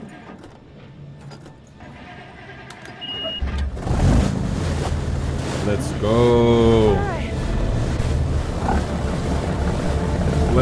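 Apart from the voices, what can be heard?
boat engine running in the video game Man of Medan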